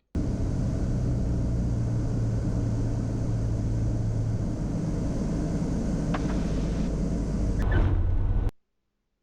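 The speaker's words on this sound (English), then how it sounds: "That squealing noise you heard, that was the landing, the touchdown." Steady loud cabin rumble of a Cirrus SR-22 aircraft, with a brief squeal of tires at touchdown near the end before the sound cuts off.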